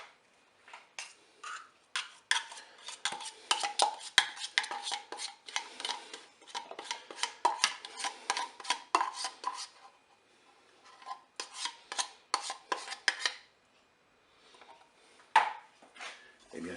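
A utensil scrapes and rasps rhythmically against a bowl or pan while melted chocolate spread is stirred with condensed milk, in bursts of quick strokes separated by brief pauses, fairly quiet and close.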